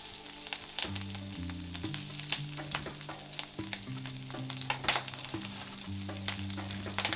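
Mushrooms frying in hot oil in a carbon steel wok, a busy crackling sizzle with scattered spatula scrapes and pops, heard under a steady melodic music bed.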